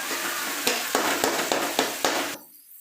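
Tomatoes sautéing in a pan for red aval upma give a loud, dense sizzle punctuated by about six rhythmic spatula strokes, then cut off sharply near the end.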